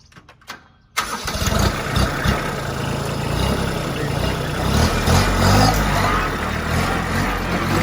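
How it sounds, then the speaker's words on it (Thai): A used Kubota B2140 compact tractor, fitted with a sugarcane guard frame and rear rotary tiller, cranks over after a second of quiet and catches into a steady, loud diesel idle that runs continuously close by. "สตาร์ทแล้วขับดูครับ"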